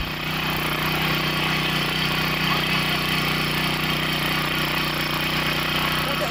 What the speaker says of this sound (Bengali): এই ছোট্ট একটা মেশিন দিয়ে 80 থেকে 90 কিলো ওজনের একটা মানুষ কত সুন্দর বসে চাষ করতে দেখুন